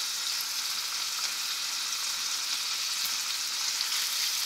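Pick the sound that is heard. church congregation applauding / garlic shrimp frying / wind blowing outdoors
garlic shrimp frying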